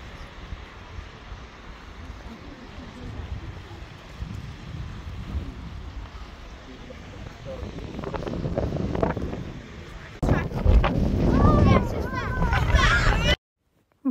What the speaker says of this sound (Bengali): সাগরের ঢেউ আর এত বাতাস।